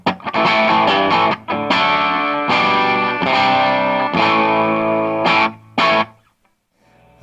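Electric guitar played hard through a Little Walter Hipster tube amp, lightly overdriven with a bit of grit; loud strummed chords ring and sustain in bursts, then stop and give way to a quiet pause before a last short hit.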